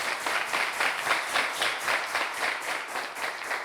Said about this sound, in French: On les applaudit très très fort à présent